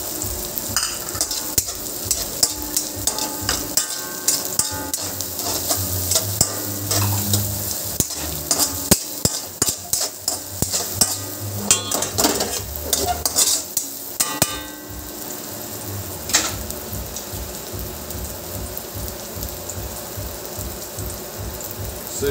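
Garlic and onion frying in oil for tuna kaldereta, a steady close sizzle broken by rapid, ratcheting spatula scrapes and clatter against the pan, with no talking.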